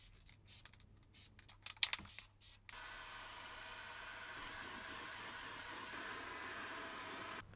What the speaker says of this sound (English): I'll just go over it again with the heat gun